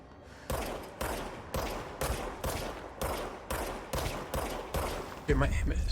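Ten evenly spaced single gunshots from an officer's pistol in the Control video game, each a sharp loud crack with a short decay, followed by a louder rumble at the end.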